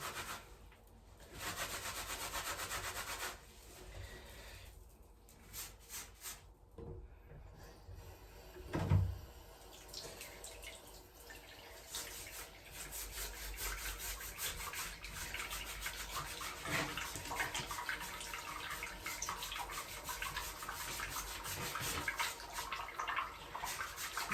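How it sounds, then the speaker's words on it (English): Fabric being rubbed by hand to work a stain out of white clothing, a steady close scrubbing swish running throughout with a few sharper knocks and handling noises, no talking. "I'm going to rub it this time. To make it slightly easier."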